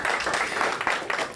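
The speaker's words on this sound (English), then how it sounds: "Congratulations, give yourselves a round of applause" A round of applause for a secondary school band and choir at a music video launch, a short burst of many hands clapping close and fairly loud.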